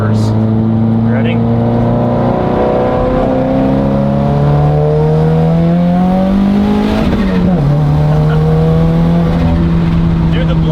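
A 390-horsepower Subaru WRX with a fully built IAG engine revs hard on a dyno, its engine note climbing and dropping through several pulls, with a sharp blow-off valve burst midway and people talking nearby.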